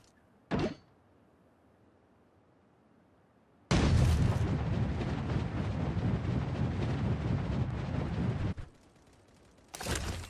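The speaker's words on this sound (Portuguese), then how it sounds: "Muito tiro pra lá, mano." Gunfire in the battle royale game Sausage Man: a brief sharp burst, then a long, loud, sustained barrage of shots lasting several seconds, ending with another short burst after a lull.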